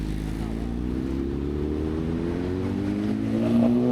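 A BMW S1000 R motorcycle engine revs steadily nearby on a street, its tone climbing gradually and swelling louder toward the end, with no talk over it.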